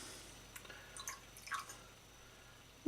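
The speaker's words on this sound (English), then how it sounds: "I'm going to add a little balsamic vinegar, and it's just a dribble" Balsamic vinegar dribbles into a salad dressing: a few faint, soft liquid drips and small splashes in a quiet room, scattered irregularly across a short stretch.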